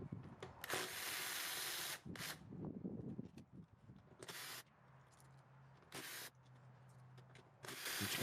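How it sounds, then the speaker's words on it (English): A 5mm Allen socket on a ratchet loosens the rear fender bolts of a Kawasaki Ninja 400 or Z400 motorcycle, giving short bursts of ratcheting and tool clatter separated by quiet pauses, fairly faint and close. "we want to take this 5mm Allen socket, or Allen key, whichever you decide to use, and remove the 4 bolts from the fender itself"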